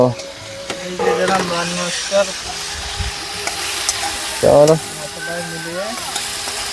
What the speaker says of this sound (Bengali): মাছটাকে একটু ভালো করে ভেজে নিতে হবে